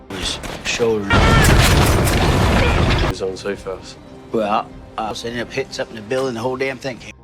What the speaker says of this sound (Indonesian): terjadi ledakan yang mengakibatkan runtuhnya bangunan